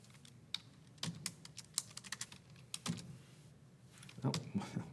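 Keys tapped on a computer keyboard while entering a value during precalculus homework on graphing rational functions, a quick irregular run of close clicks over a low hum with faint background voice.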